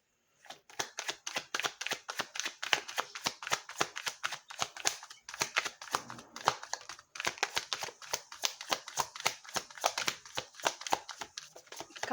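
Tarot cards being shuffled by hand for a reading, a long run of close, quick riffling snaps in a steady rhythm with a brief pause midway.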